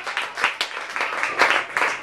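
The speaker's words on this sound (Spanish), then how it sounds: "vamos a dar un fuerte aplauso al Señor." Church congregation clapping in praise, a loud, close burst of applause with uneven swells of hand claps and some voices mixed in.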